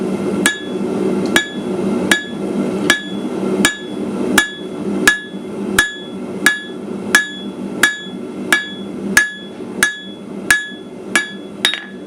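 A hammer forges a taper on the far edge of an anvil, half on and half off, with about seventeen evenly spaced ringing metallic blows in a steady rhythm, close and loud.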